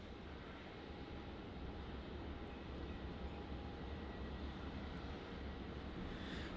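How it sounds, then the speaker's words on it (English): A Vietnam Airlines Airbus A350 taxis toward the terminal at Melbourne Airport, giving a steady, broad jet-engine rumble and whine that holds at an even level throughout, with no talk over it. "We've got that Vietnam A350 taxiing over towards the terminal there."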